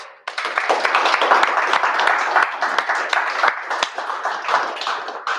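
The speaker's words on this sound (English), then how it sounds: "Give a round of applause." A room full of people at a tech meetup applauds steadily after a DevOps talk, a dense continuous clapping that starts abruptly and holds at a loud, even level throughout.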